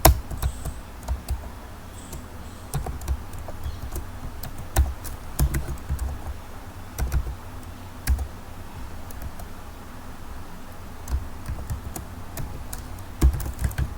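Typing HTML on a computer keyboard in Notepad++ produces close, irregular bursts of key clicks and taps with short pauses between runs, no voices present.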